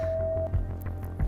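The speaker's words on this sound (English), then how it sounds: "this is the sound of purple." A single steady electronic tone from a head-worn color sensor, sounding the color purple through bone conduction, holds for about half a second over a low hum before cutting off.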